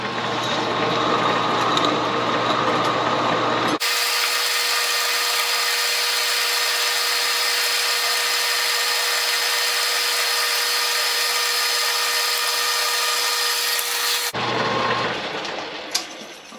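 A machine tool takes 1/8 inch cuts on a motorcycle dirt bike CDI test fixture, a loud steady high-pitched cutting whine that holds for about ten seconds, framed by the machine running before and after.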